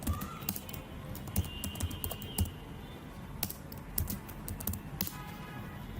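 Computer keyboard typing while entering data into an Excel spreadsheet: quiet, close keystrokes in irregular bursts and single taps, with short pauses between words.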